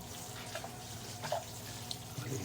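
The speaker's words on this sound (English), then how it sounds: "All right, rinsing with the well water. Just rinse off the leaves a little bit here." Well water runs quietly from a hose or tap over pumpkin leaves, a soft steady rinse with faint splashes and drips, no voices.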